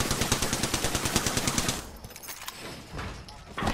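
A teammate's automatic gunfire in a video game, a fast, loud stream of evenly spaced shots for nearly two seconds that gives way to quieter scattered noise and faint distant pops.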